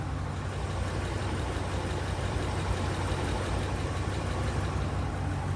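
A Dodge Ram engine with a ticking fault idles after an oil change, a steady, even low rumble holding at moderate level throughout with no voices.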